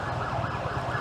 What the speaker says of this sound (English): I'll wait for the ambulance.